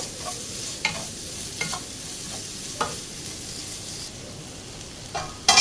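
Chopped prawns are stirred through a sizzling masala in a pan. A steady frying hiss runs throughout, with a few soft scraping strokes and a louder clatter at the end.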